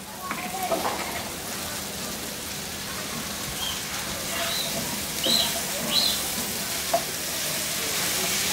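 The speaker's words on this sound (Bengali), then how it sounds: "আমি এর মধ্যে সাজনা গুলা দিয়ে একটু ভেজে নিব" Sajna (drumstick) pieces fry in oil in a pan, giving a steady, close crackling sizzle with occasional brighter pops and light stirring clinks.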